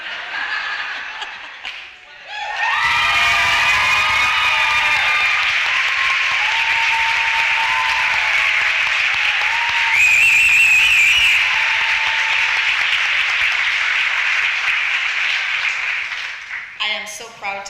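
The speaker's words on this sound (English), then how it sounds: "they were standing and clapping for you" An audience at a school district convocation stands and claps, giving loud, dense applause with scattered whistles and cheers that holds steady for about fourteen seconds before dropping away.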